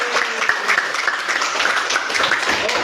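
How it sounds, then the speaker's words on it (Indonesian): Students clapping together in a classroom, a steady dense patter of applause that stays even and moderately loud throughout, with no voices over it. "Tepuk tangan semua."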